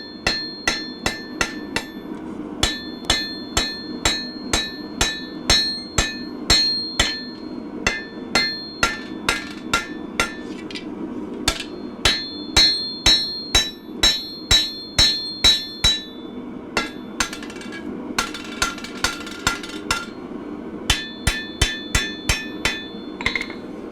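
A hammer forges bevels into a katana blade, striking metal in loud, ringing blows in a fast, regular rhythm with brief pauses, close by and with no talk.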